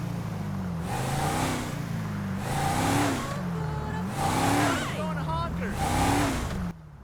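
A car engine in the GTA 5 video game revs and accelerates hard toward a wall, its pitch rising and falling in four surging waves, with a voice talking over it before it cuts off abruptly.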